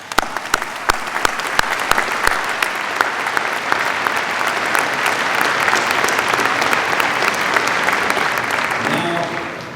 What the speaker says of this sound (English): Please join me in a round of applause for this committed group of student leaders